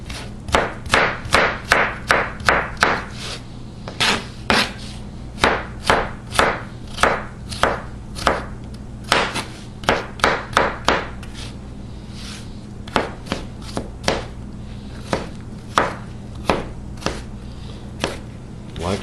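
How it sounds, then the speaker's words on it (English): Potatoes pushed through a potato cuber give a series of crisp, rhythmic chopping clacks, close and distinct. Irregular bursts repeat steadily with short pauses and a faint hum behind. "Just cut them like French fries into this cuber."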